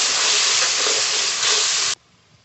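Spice paste of turmeric, salt and a splash of water frying in a pan for a giant prawn malai curry gives a loud, steady sizzle for about two seconds, then cuts off abruptly to near quiet.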